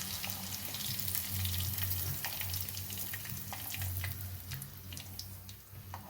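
Amla (Indian gooseberries) frying in a pan for pickle, a continuous close sizzle and crackle with small pops scattered through and a low background hum.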